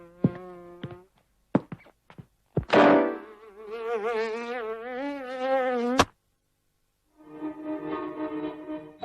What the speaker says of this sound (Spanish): El estudio ganó un Oscar por esta película de Ferenc Rofus que narra el viaje de una mosca común